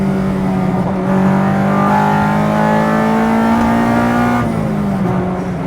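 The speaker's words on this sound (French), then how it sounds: "ça me donne des frissons le bruit du VTEC" A track-prepared Honda Civic EG6 VTEC engine revs hard and high, climbing in pitch with a sharp, screaming tone before dropping back, close and loud with no talking.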